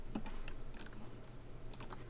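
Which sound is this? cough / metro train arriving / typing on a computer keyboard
typing on a computer keyboard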